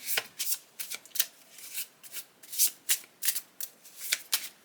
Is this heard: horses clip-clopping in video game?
no